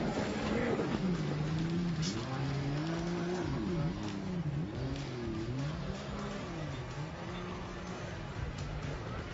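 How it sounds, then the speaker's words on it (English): A high-pitched racing watercraft engine at a Pro Watercross race in Lewisville, Texas whines and wavers in pitch as it roars past, loud and continuous and jet-like, with a commentator's voice faintly mixed in. "his boat has a very unique sound right now. It's almost like a jet engine coming by."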